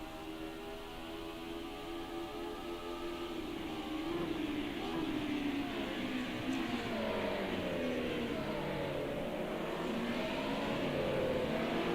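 Race cars in a sim racing game surge down the main straight at Circuit of the Americas toward turn one, a dense steady engine roar with rising and shifting tones as several cars accelerate together, loud and continuous without talk.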